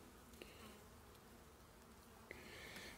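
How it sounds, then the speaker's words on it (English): Honey bees hum softly and steadily on a brood frame pulled from a hive, a faint continuous drone with a couple of small taps. "Beautiful bunch of bees."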